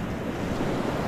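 Sea surf breaks steadily along a beach during a flounder-fishing outing, a constant broadband wash of waves with wind buffeting the microphone throughout, no voices.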